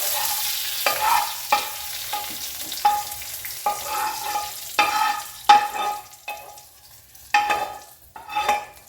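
Green chillies sizzle in a pan under repeated stirring, with a spoon scraping the metal in uneven bursts about every second. The steady hiss of frying runs underneath, close and moderately loud, with no talk.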